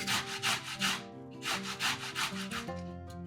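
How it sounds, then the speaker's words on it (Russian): Boiled carrot being grated on a fine kitchen grater, heard as a series of rhythmic rasping scrapes, close and steady, with no voices. "1-2 вареных морковки точно так же, как и картофель, трем на мелкой терке"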